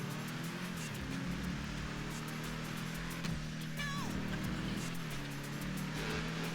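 Vapid Caracara 4x4 pickup truck in a video game, its engine droning steadily while driving, a low continuous rumble with a brief rising whine partway through.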